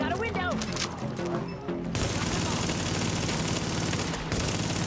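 Video game gunfire erupts as a sustained loud fusillade of rapid automatic shots, starting sharply after a brief moment of speech and continuing densely to the end.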